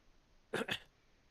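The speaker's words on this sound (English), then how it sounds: "I'm just clearing my throat" A person clears their throat twice in quick succession, close and fairly loud, short harsh bursts standing out against a quiet room.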